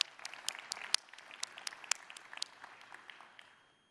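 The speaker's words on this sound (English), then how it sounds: "give a hand of applause" Sparse clapping from an audience at a smartphone and wearables launch event, scattered individual claps at moderate distance that thin out and fade toward the end, fairly quiet.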